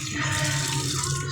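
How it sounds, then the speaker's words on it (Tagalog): Water runs steadily into a cooking pot for miswa soup, a continuous splashing pour close by with a low hollow tone beneath it. "Gamitan na ng konting tubig"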